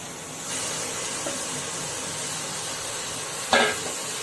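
Washed rice grains scrape and rustle as they are stirred in a pressure cooker over a soft, steady sizzle for pulao, with a sharper scrape near the end.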